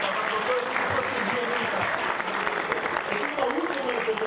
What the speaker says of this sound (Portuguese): vamos dar uma salva de palmas, então,